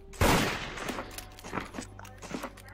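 Gunfire in the VRChat game Murder, a sharp loud shot followed by fainter trailing cracks and clatter over a low background hum.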